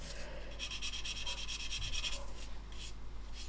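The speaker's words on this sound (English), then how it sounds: "I'm sanding in a gormless way in an effort to make it more visible" Rhythmic hand sanding of a scale model, quick scratchy back-and-forth strokes rubbing a small surface, close and fairly quiet, with brief pauses between bursts.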